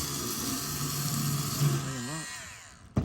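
A power sander working on old painted metal whirs steadily and close, then winds down in pitch and stops, followed by a sharp clunk.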